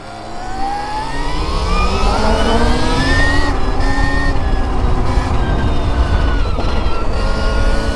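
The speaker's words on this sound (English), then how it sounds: "stuck behind the train as always around here" A train rumbling past a road crossing near a bridge, heard loud and close from a waiting vehicle, with a rising engine drone and steady grinding roar filling the whole stretch, no talk.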